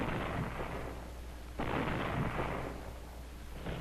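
155mm artillery guns fire during the 1944 Saipan campaign, heard as two or three heavy booming blasts with rolling, noisy tails, loud and coarse like an old wartime film soundtrack.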